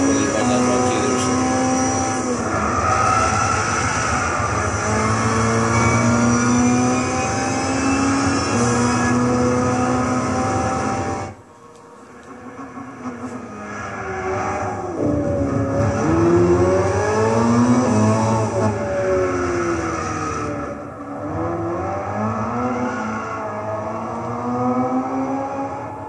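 Amuse S2000 GT1 Turbo race car engine in Gran Turismo 6 at Silverstone, droning loud and steady with climbing revs and gear changes, briefly dropping off mid-run before building again.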